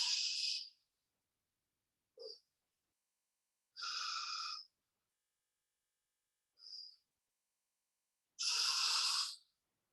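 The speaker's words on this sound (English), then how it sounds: "Long exhale." Slow breaths during a stretching class: three long, breathy exhales alternate with two short, faint inhales, each separated by silence, close to the microphone.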